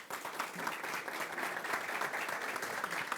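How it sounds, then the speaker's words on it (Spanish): Applause from a university audience honouring a director at a graduates' talk on humanities and arts: steady, dense clapping that holds at an even level from start to finish, with no voices over it. "Pido un fuerte aplauso al director"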